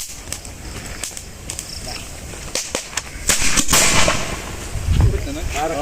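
Fireworks going off outdoors: a rapid string of sharp cracks and bangs, building into a louder rumbling burst, with people's voices faintly underneath.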